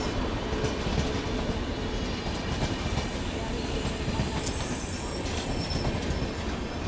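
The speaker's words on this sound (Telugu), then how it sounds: "నారాయణద్రి సూపర్ ఫాస్ట్ ఎక్స్ప్రెస్ ఇంకొద్దిసేపట్లో రాబోతుంది" The Narayanadri superfast express runs through Miryalaguda railway station beside a train waiting on the loop line, a steady loud rumble of rolling wagons with wheel squeal and clattering throughout.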